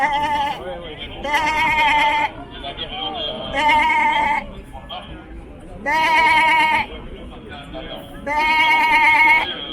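A person's voice imitates sheep bleating in four drawn-out, wavering bleats with short pauses between them, close and fairly loud.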